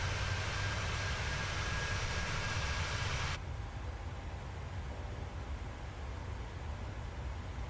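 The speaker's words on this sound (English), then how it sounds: "You hear the engine noise?" Steady broadband roar of a PMDG Boeing 737's jet engines in Microsoft Flight Simulator while descending, loud at first, then dropping to a quieter continuous hum partway through.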